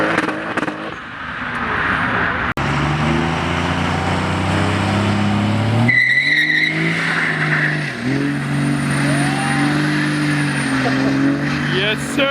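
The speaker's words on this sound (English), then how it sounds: "My tires won't really grip this road." A flamethrowing Mazda RX7 at a car meet revs loudly while its tires struggle for grip on the road, with rising whines and a squeal partway through, and people talk and shout over it.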